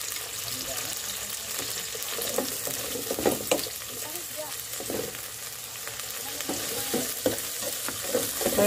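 Onion and garlic frying in a pan, a steady sizzle with stirring scrapes and clacks throughout, close and fairly loud.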